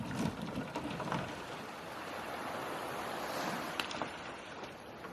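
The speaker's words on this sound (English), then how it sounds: "As you can probably hear behind us, the waves are crashing pretty hard." Ocean waves crash hard on a beach in Guam at night, a continuous loud rushing roar of surf with wind, no talking heard.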